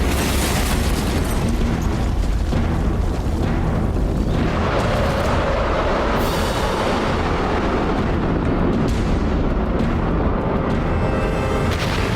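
A V-weapon rocket launch goes wrong, erupting into a loud, sustained explosive roar that rumbles heavily throughout and swells after a few seconds, with no voices.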